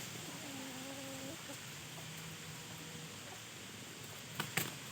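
Young Pa Koi chickens about seven to eight months old give faint clucks and short calls at a middle distance over low background hiss, followed by a brief sharp knock near the end.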